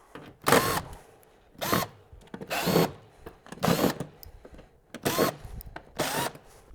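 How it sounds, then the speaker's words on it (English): Battery driver unscrewing the six screws from the control panel of a calibrator unit: six short whirring bursts, close by, separated by brief pauses. "Firstly, we'll remove the 6 screws."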